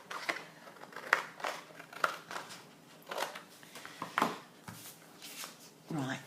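Paper being cut by hand for a handmade journal, with a series of close, crisp snips and rustles coming in uneven bursts, while faint movement and handling sounds fill the pauses.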